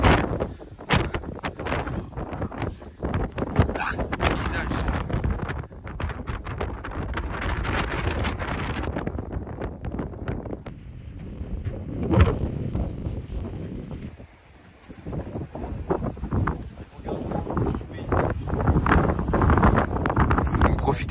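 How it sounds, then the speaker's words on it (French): Strong winter wind on snowy Pic d'Ayous in the Pyrenees buffets the microphone in loud, roaring gusts that run almost without a break, while people talk and shout over it. "Ça souffle vraiment, Jamy."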